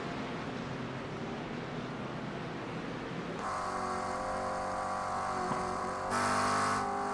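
A race car in an offroad GT3 racing video game gives a steady, droning engine tone that shifts pitch partway through and brightens near the end. No one speaks.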